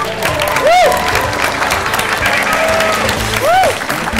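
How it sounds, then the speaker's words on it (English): A game-show audience at a gaming convention gives steady, dense applause with whoops and cheering, two bright rising-falling whistle-like cheers standing out above the continuous clapping. "A round of applause, please, for our own glitch."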